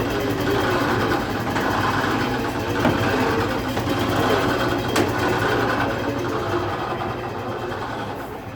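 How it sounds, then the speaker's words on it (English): An air compressor for a skid steer repair chugs and pumps up air at close range. Its motor drones steady and loud with a rapid mechanical rattle throughout, and no one speaks. "wait for this air compressor to pump up with a little bit of air"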